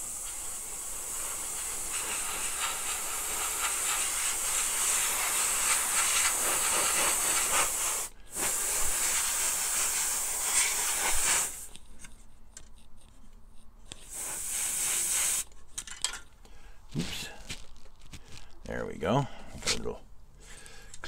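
Airbrush spraying translucent white paint onto a model car's interior tub, a steady close hiss running for several seconds before cutting off, then broken short bursts of spray with small handling noises.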